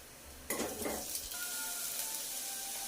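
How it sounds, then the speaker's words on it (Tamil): Ginger garlic paste hitting a hot pan and sautéing, with a sudden loud sizzle that settles into a steady close frying hiss, and brief stirring scrapes early on. "இஞ்சி பூண்டு நல்லா பச்சை வாசனை போகிற அளவுக்கு வதக்கிட்டு"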